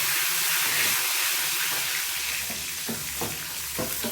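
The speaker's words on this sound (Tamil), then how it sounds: "இந்த கரைச்சி வச்சுருந்த புளியை அதில் ஊற்றணும்." Loud, steady sizzling of tamarind water poured into hot oil with fried lentils, a broad hiss that fills the clip with bubbling crackles near the end.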